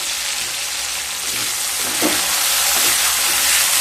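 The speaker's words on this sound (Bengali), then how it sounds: "পেঁয়াজগুলোকে হালকা ব্রাউন কালার করে ভেজে নেব" Sliced onions and split green chillies fry steadily in a pan, a dense, even sizzle with a brief stir partway through, close and loud, with no voices.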